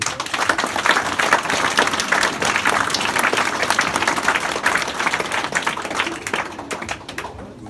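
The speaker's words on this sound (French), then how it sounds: "On peut les applaudir." Audience applause at an inauguration: a room full of people clap in a dense, lively burst with individual claps audible, holding strong for several seconds before thinning out at the end.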